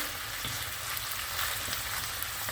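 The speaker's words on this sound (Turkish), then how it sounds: "Soğanlar eriyene kadar kısık ateşte kıymamız kavrulmaya devam edecek" Minced meat and plenty of dry onion frying gently over low heat for Turkish etli ekmek: an even, continuous close sizzle with faint crackle, alone without talk.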